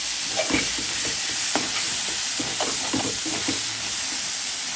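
Greens being sautéed with a splash of water in a pan for a potato and rohu fish curry, a steady sizzle and hiss broken by repeated scraping stir strokes, close and moderately loud with no talking.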